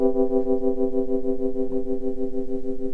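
A Rhodes-style synth patch plays a sustained tone whose loudness pulses in a steady, even wobble from triangle-LFO tremolo on the VCA, heard alone and clear.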